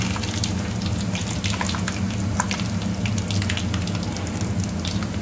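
Whole coriander seeds, cumin and dried red chillies sizzle in hot oil for a Punjabi kadhi tadka, a steady crackling fry with scattered pops, moderately close and alone.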